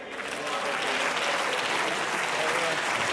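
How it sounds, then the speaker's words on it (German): Applause fills a parliamentary chamber, a dense, steady clapping from many members that swells slightly and continues without pause. "Josef Czap erntet auch Applaus von der ÖVP"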